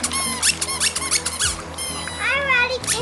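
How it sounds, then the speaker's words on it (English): Squeaky rubber bath toy squeezed repeatedly in a backyard pool, giving several close, high, wavering squeaks with children's voices and splashing around them. "This is a squeaky toy too."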